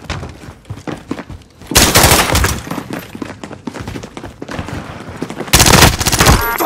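Bursts of PPSh submachine gun fire in Call of Duty Warzone, loud rapid automatic volleys in two heavy stretches separated by quieter combat noise, with sharp cracks and scattered battlefield clatter.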